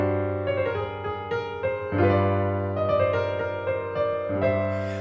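Piano plays a Mozart-style melodic sequence in which each repeated figure keeps exactly the same intervals and drifts out of the home key. Notes are clear and steady, mid-loud and close, with no speech.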